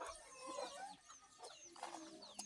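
Geese honk in a rural Thai village, a few nasal calls overlapping and trailing off, faint and at some distance in the open air.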